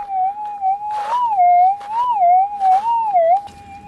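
A loud, sustained electronic metal detector tone warbling up and down in pitch over a small target in wet ground, continuous and close, with faint rustling and crackling bursts underneath.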